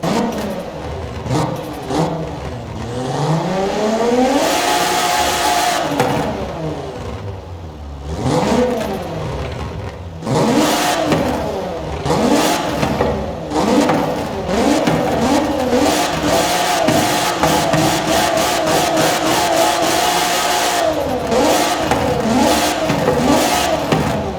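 A Rossion Q1 engine in Forza Horizon 4 revs repeatedly, pitch climbing and falling in loud surges with rapid popping and crackling, continuous and close throughout.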